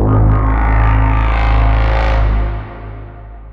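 A loud, heavily distorted tonal horn blast with reverb, sustained and then tailing off into a dark echoing decay.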